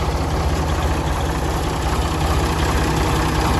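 A tractor engine idles close by with a steady, low, throbbing rumble and a slightly knocking rhythm, heard loud and unbroken with no talking.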